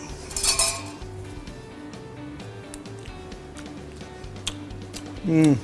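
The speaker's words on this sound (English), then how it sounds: "Just going to grab the spoon and just give it a bit of a move" A spoon stirring in a pot, with scattered metallic clinks and scrapes at close range, a sharper clatter near the start and another near the end.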